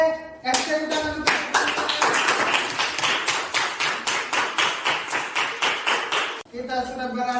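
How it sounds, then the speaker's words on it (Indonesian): Fast, dense clapping from a classroom audience during a poetry lesson, sustained for several seconds at close range, with a voice speaking briefly just before and right after the applause. "kasih tepuk tangan untuk"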